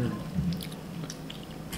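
Someone bites into and chews eel at a Japanese restaurant, giving soft, close, wet squishing mouth sounds over a low background murmur.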